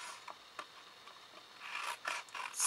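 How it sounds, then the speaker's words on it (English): Scissors snip across the scored corners of a card explosion box, cutting diagonally; soft, close rasping cuts start quietly and grow louder and more frequent toward the end, with no talking. "you're going to come in with your scissors"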